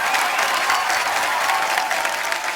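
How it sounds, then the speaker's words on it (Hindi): A studio audience on a TV comedy show claps loudly and continuously, a dense wash of applause with no voices over it. "जोरदार ताली एक बार।"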